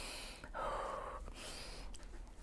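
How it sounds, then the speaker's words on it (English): A person takes deep breaths, a couple of drawn-in inhales and slow exhales heard close and fairly quiet, with no talking. "Take a couple deep breaths."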